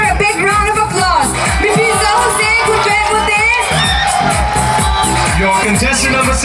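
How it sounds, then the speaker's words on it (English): An audience at a state-level beauty pageant cheers and shouts loudly for the newly crowned winner, a dense, excited roar with whoops and rhythmic thumping music underneath. "Please give her a big round of applause."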